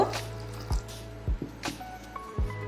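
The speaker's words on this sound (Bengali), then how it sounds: "এবার আমি নুন জলে একটু ভিজিয়ে রাখবো একটু জল দিয়ে দেব" Water is added to grated green mango soaking in salt water, a few soft separate splashes and drips against a faint steady hum, quiet and close.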